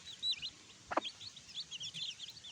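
Native chickens in a provincial yard make high, thin, repeated chirps, broken midway by a single short, harsher cluck-like call. The sound is close, moderate in level and free of speech.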